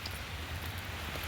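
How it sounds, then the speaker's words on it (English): Steady rain falling outdoors by a building, a soft continuous patter with a low rumble beneath, faint and unbroken. "as you can see, it's raining"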